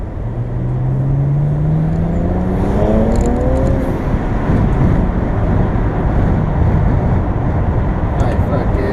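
A BMW 335i with the N54 engine and DCT gearbox accelerates after a downshift, its engine note rising steadily before dissolving into heavy rushing wind and road roar.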